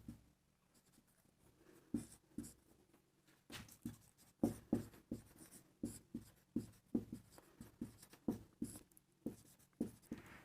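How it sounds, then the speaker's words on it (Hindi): Pen or chalk strokes scratching out figures during a maths lesson on divisibility rules, a steady run of brisk close taps and scrapes with brief pauses, no talking. "चलो लिखते हैं फिर कैसे लिखेंगे इसको।"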